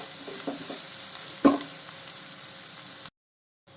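Finely chopped onions sauté in a pan for an egg curry gravy, with soft sizzling and a few light stirring scrapes. The sound is quiet and close, then stops abruptly into silence.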